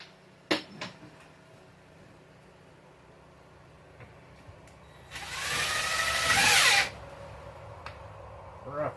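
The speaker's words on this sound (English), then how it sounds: "Put a couple of screws in there so it doesn't twist." A power drill drives a screw into a wooden nest box in a short whirring burst of about two seconds, surrounded by quiet clicks and handling knocks.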